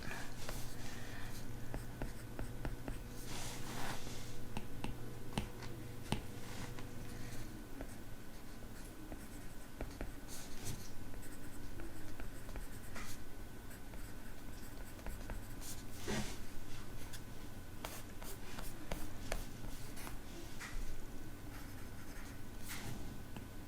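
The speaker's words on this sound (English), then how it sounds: "And I'm just gonna write." A stylus writing on a tablet, a quiet, continuous run of soft tapping and sliding strokes, close and faint, with no talking throughout.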